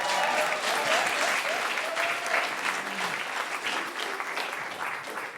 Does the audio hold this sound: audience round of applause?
yes